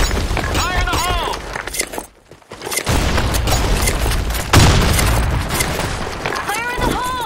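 A grenade blast in a video game, a loud booming burst amid dense gunfire and battle noise, with voices shouting over the chaos.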